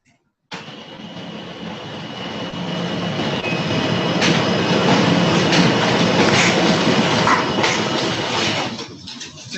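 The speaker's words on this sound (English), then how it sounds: "The train. It's like we just had a cement mixer come through the room." A train passes close by, a loud sustained roar and rumble that swells in after half a second, holds steady for about nine seconds, then begins to ease, drowning the room.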